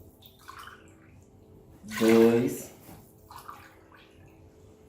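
Water poured from a measuring cup into a pan holding oil, a short gushing splash of about a second, in a quiet kitchen with a voice counting before and after.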